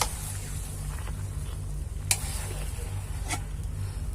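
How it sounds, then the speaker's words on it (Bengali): Potatoes being stirred with spices in a pan, a steady sizzle with scraping and a couple of sharp clinks of the spoon against the metal. "তো মশলার সাথে ভালো করে এটা মিশিয়ে নিচ্ছে।"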